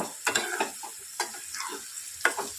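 Cashews and raisins fry in oil in a pan for fried rice while being stirred, close sizzling with a few soft scrapes and knocks of the spoon, no talking.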